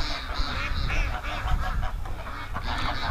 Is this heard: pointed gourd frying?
no